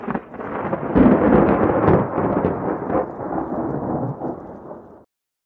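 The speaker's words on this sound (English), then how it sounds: "Now, did you hear that lightning?" Thunderstorm recording played back, a deep rolling thunder rumble with rain hiss swelling loudly after a second and fading out over about four seconds before cutting off.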